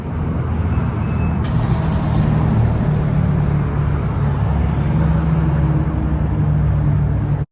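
A silver automatic stock New Edge Ford Mustang GT with a 2V V8 is driven, and a loud, steady engine and road drone runs continuously close to the microphone.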